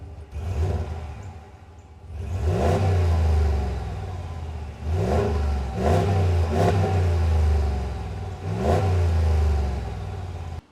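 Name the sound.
5.7 Hemi V8 truck engine revving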